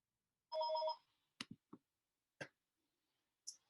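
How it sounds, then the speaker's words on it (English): Mobile phone ringing once in a quiet room, a short bright electronic ring followed by a few faint clicks and taps. "there's my phone"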